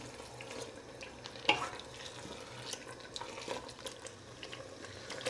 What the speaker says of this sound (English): When you boona the meat like this, all the masala penetrates the meat